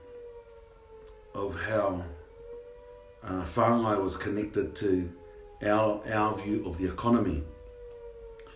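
A fire siren wails steadily in the background, fairly faint, running beneath a person's continuous talking.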